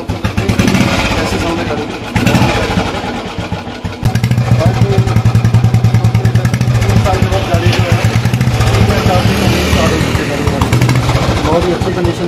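A Royal Enfield Bullet motorcycle, left unused for three years, starts with an abrupt catch and settles into a loud, steady thumping idle with a fast, even pulse, close by and partly under talk.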